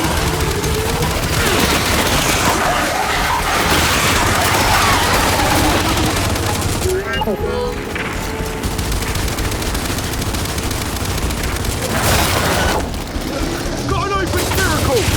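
Dense, loud automatic gunfire from the Gears of War 5 video game rattles almost without pause, layered with heavy booms and mechanical clatter, while voices shout over the battle.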